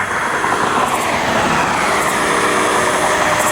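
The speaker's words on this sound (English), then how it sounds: "Oh, I hear a train." A train passing nearby heard from a walk along the line, a loud continuous roar and rumble that stays steady throughout, with faint high metallic ringing.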